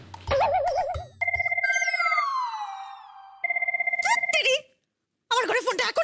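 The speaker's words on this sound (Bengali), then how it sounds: "আমার ঘরে ফোনটা এখনই বাজতে হলো" A telephone rings in a room with repeated electronic trills in bursts between pauses, mixed with other bright electronic tones and sounds from a television drama scene.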